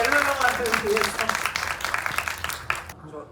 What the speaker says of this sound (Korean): 관객분들 박수 한번 주시죠.